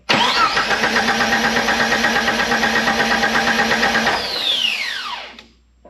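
A car engine cranks loudly and close with a fast, even starter rhythm for about four seconds while a flooding cylinder keeps it from firing, then the cranking winds down and stops.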